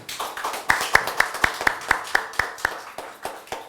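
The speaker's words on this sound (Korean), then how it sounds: "큰 박수로 맞아주시기 바랍니다" Scattered clapping from a small seminar audience welcoming a speaker, a steady run of sharp claps that thins out toward the end.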